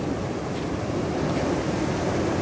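Waves from a high tide at Galas Beach in Dipolog City wash in as a steady, dense rush of surf, with wind buffeting the microphone and no voices heard.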